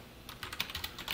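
Keys clack on a computer keyboard as Python code is typed, a short burst of quick, light, close-up taps over a quiet room.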